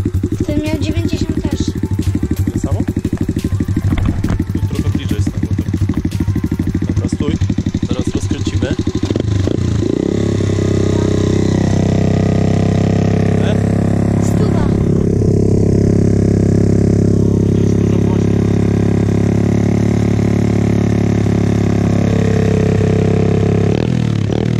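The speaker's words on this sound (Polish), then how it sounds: "Kuba teraz sprawdza wydech bez dB-killera." A motorcycle with its exhaust dB killer removed, on a modified aftermarket exhaust, runs loudly close by: rough clattering revs for the first ten seconds, then a steady, booming idle drone. Voices talk over it.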